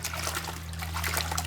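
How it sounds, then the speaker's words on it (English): A wash mitt is dunked in a bucket of clean rinse water and scrubbed across a plastic grit guard while a Nissan 370Z is washed, giving a steady close trickling and sloshing over a constant low electrical hum. "I'm dipping like I always do and rub it across the grit guard"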